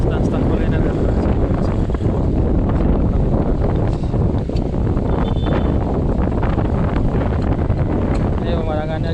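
Strong wind buffets the microphone at a seaside playground beside the BJ Habibie Floating Mosque in Parepare, South Sulawesi. It is a loud, constant roar with gusty rumble that fills the whole stretch.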